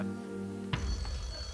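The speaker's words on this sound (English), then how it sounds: "we get a bit nervous when the phone goes before the question" On a game show set a telephone starts ringing with a sudden bright electronic trill that cuts in over a low sustained musical drone, then rings on steadily, fairly loud and close.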